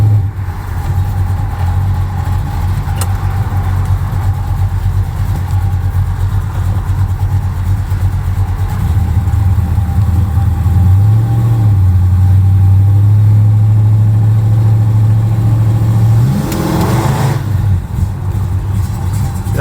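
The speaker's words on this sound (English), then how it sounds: "Definitely a very nasty sounding exhaust. Gives you that classic Mopar muscle feel." A 1969 Dodge Dart Swinger's V8 exhaust rumbles deep and loud at idle, then swells into a heavier, rising growl before settling back, with no talking.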